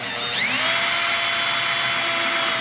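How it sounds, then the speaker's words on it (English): A power drill bores a hole through a vintage 1964 Gibson LG-0 acoustic guitar, a close, loud high-pitched whine whose pitch sweeps upward early on and then holds steady until it stops abruptly at the end. "This is honestly the first hole being drilled through here."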